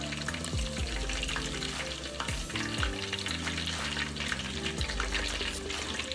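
Battered chicken and shrimp deep fry in hot oil, a dense continuous bubbling sizzle with occasional louder crackles, close and steady throughout, no voices.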